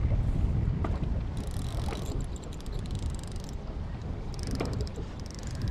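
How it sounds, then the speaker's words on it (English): Strong wind roars and buffets steadily against a microphone on a small boat out fishing for American shad, with gusty rumbling throughout and faint mechanical clatter underneath. "Wind is nasty, isn't it?"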